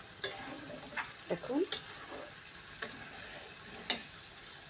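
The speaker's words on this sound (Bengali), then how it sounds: "চিংড়ি মাছটা আর একটু কষিয়ে নিচ্ছি, কারণ ভিতরে একটু মশলাটা সুন্দরভাবে তো যায়।" Prawns fry with spices in a pan, sizzling softly while a utensil scrapes and stirs in several separate strokes and clicks; a voice says a single word.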